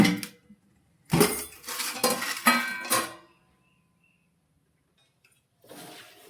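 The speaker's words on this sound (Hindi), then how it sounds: "ग्वारफली को पहले पानी से अच्छे से धो लेना है और निकाल लेते हैं बर्तन में।" Water splashes and sloshes as guar beans are rinsed, with clattering bursts in a bowl, then a quiet pause before more washing resumes.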